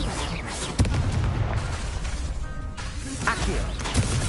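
Incendio fire spell cast during Hogwarts Legacy gameplay, a sharp burst followed by a rumbling, crackling blast, then a second impact toward the end, over game music and a low voice.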